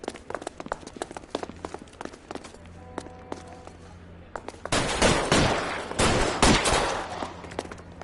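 Gunfire in the 2011 video game L.A. Noire, remastered: sporadic shots and clip-clop footsteps at first, then from about five seconds a loud, dense fusillade of rapid overlapping bursts with no talking.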